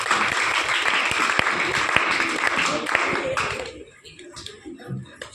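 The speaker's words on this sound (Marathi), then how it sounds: "त्यामुळे यांच्यासाठी जरा एकदा जोरदार टाळ्या झाल्या पाहिजे." Audience at a school farewell ceremony breaks into loud, dense clapping that keeps going for about three seconds, then thins out and dies away, with voices audible underneath.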